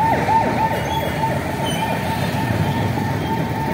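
A siren drones on steadily amid road traffic, fairly loud throughout the short stretch.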